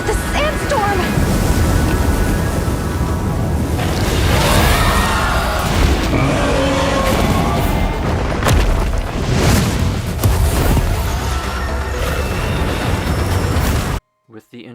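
A roaring sandstorm from the Monster Hunter Wilds video game trailer, a steady loud rushing wind with deep booms and surging gusts, then an abrupt cut to silence near the end.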